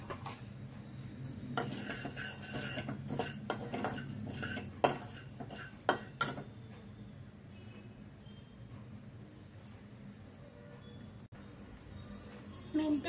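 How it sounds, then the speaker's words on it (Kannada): Fennel seeds go into a pan while making kashaya spice powder, with faint scattered metallic clinks, scrapes and light rattles of a spoon against cookware, quiet and irregular throughout. "ಸೋಂಪು ಹಾಕೊಳ್ತಾ ಇದ್ದೀನಿ."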